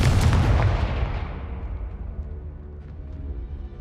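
A Confringo fire-blast spell goes off in Hogwarts Legacy: one loud, deep explosive boom that rolls and slowly fades over a few seconds, with a faint rumbling tail.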